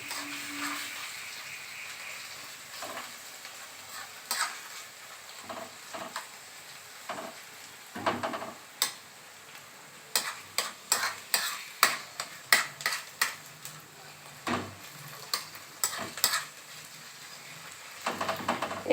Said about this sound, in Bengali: ঘিটা দিয়ে আমার পুরো এটা ভাজা হয়ে গেছে।